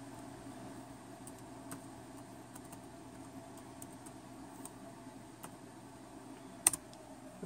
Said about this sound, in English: I used the keyboard to type the password